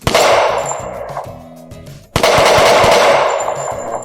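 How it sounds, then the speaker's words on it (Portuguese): Loud, close bursts of rapid automatic gunfire from a shooting video game, two long volleys separated by a brief pause, sharp and punchy. "então vou testar aqui o tiro"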